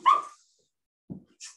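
A small dog barks in her sleep beside someone at a desk: one sharp yip, then a faint muffled woof and a soft whimper, with silence between.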